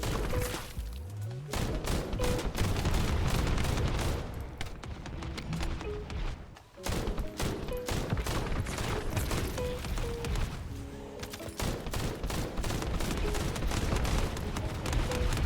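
Continuous rapid weapon fire in The First Descendant, with loud close shots repeating in fast automatic bursts through nearly the whole stretch and a short pause partway through before the shooting resumes.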